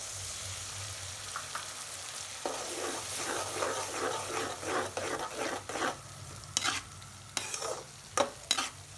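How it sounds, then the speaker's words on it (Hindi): Mustard paste masala frying in oil over sautéed onion and garlic for a fish curry, a steady close sizzle with rhythmic scraping stirs that grow louder and more irregular toward the end. "अब 2 मिनट एकरा भूज लेबे चलबे।"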